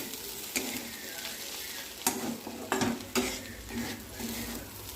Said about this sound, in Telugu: బాగా మిక్స్ చేసుకుందాం.